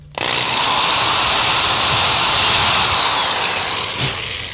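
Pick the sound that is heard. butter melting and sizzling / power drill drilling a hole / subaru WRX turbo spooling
power drill drilling a hole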